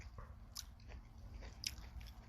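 Someone bites into a crisp apple outdoors, giving a couple of close, faint crunches followed by soft chewing against a low background hum.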